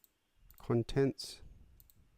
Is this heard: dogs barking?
no